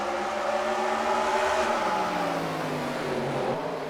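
Stock cars race in a NASCAR video game at North Wilkesboro, a loud, steady engine drone with pitch sweeps as the cars run through the turns, no talk.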